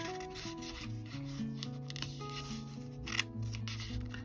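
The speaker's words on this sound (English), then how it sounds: "So we're just going to fold it this way." Paper being folded into a junk journal envelope gives soft rubbing and creasing sounds, repeated in short strokes over quiet music playing in the background.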